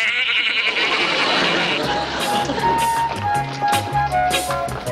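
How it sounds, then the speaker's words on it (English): A cartoon goat bleats amid a busy stretch of sound, with a voice talking at the start and rhythmic music and effects carrying on around the wavering cries. "a goat."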